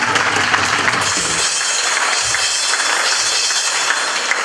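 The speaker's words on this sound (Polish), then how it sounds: "Wielkie brawa dla Was!" Applause fills a room at the first birthday celebration of rural housewives' circles in a Polish municipality, a loud, continuous crowd clapping that holds steady throughout.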